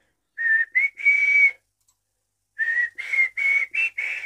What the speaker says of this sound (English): Hopefully my tone of the whistling was good.